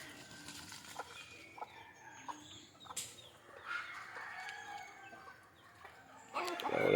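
Country chickens cluck faintly and intermittently outdoors as their coop is opened, with a sharper louder burst of fowl calls near the end.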